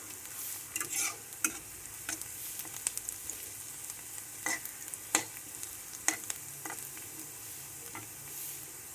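Onions and chillies frying until lightly browned, a soft continuous sizzle with intermittent spatula scrapes and taps against the pan, fairly quiet and close.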